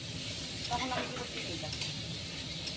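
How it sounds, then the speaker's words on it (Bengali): Chicken curry made with desi chicken and tomato sizzles steadily in a pan as it is stirred, a continuous close frying hiss with scraping stirring strokes layered on top. "হ্যাঁ, নাড়াচাড়া করে ভাজবো।"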